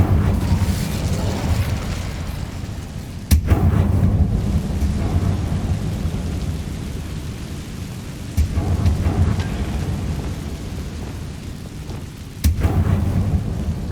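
The Incendio fire spell in Hogwarts Legacy goes off three times in sharp bursts, each followed by a roaring, rumbling blaze over a steady, dense ambient wash.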